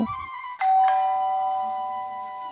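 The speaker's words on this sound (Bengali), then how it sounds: "কিছু পরে কলিং বেল বেজে উঠতেই" An electronic doorbell chimes twice in quick succession, two bright ringing tones that linger and slowly fade, heard close and alone.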